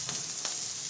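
Onions sizzling on a hot plancha grill at a barbecue, a steady close frying hiss throughout with no voices.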